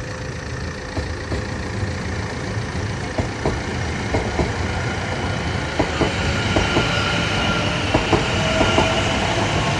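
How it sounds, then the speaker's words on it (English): A Greater Anglia class 720 electric train pulls out of Cheshunt station, a steady broad rumble of motors and wheels with rhythmic clicks over rail joints, slowly growing louder as it departs. "Now departing is the 1452 from Stratford to Bishop Stortford."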